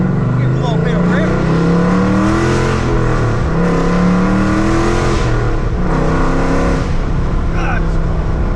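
A Mopar car with an automatic transmission is revved repeatedly, its engine note climbing and falling in loud, close pulls over a continuous throaty drone.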